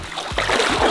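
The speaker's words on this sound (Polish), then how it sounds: "Chyba ktoś tu wpadnie do wody!" A person falls into a swimming pool during a quiz game, making a brief, noisy water splash and sloshing, close by, with commotion around it.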